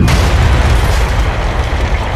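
A bomb explodes in the cargo hold of a jet airliner during a blast test at Bruntingthorpe. One sudden, loud blast swells straight into a heavy, sustained rumbling roar that lasts the whole stretch.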